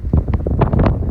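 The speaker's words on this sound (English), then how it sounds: "Wind pretty strong." Strong gusts buffet the microphone on an open golf course, a loud, continuous rumbling roar with uneven surges and no voices.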